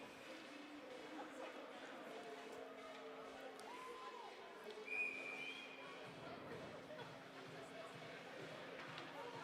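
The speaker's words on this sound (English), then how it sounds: "Before him, we've got a whistle." A referee's whistle stops play during a college ice hockey game between Rutgers and St. John's, a single short shrill blast rising over steady arena crowd noise while a commentator talks.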